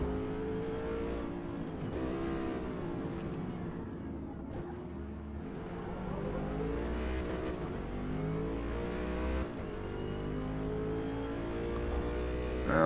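A C8 Corvette races at Le Mans in Forza Motorsport, its engine droning loud and continuous with rising and falling revs and gear changes that shift the pitch, heard alone with no voice.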